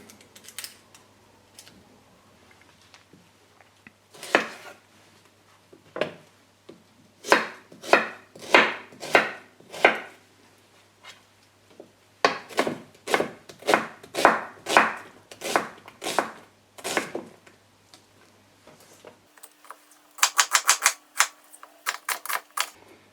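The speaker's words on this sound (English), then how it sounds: "I'm just going to coarsely chop these onions" A knife coarsely chops onions on a cutting board in close, crisp strokes, first in scattered single cuts and then in fast rhythmic bursts, with no talk.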